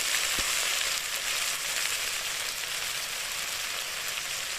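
Ginger, garlic and chilli paste frying in a pan for an okra and gram flour dish, a steady close hiss of sizzling oil with one brief tap near the start, no voices.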